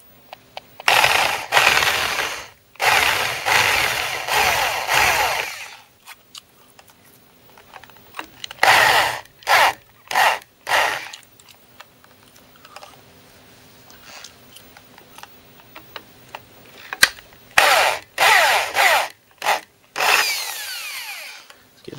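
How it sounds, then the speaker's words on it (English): Power drill running a large step drill bit through material to widen a hole toward 14 mm, in repeated bursts of high whining drilling separated by short pauses, loud and close, with no talking. "I've got a very big step drill on the end now."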